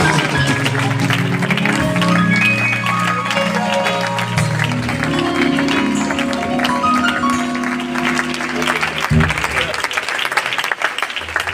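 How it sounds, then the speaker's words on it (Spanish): A church congregation in Mieres applauds, a steady crowd clapping heard beneath sustained musical tones that carry over it, easing off near the end. "Los aplausos para Dios"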